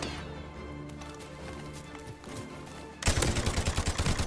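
A few seconds of quiet game ambience give way to loud, rapid bursts of automatic gunfire from a gun hip-fired without aiming in Call of Duty, close and continuous to the end.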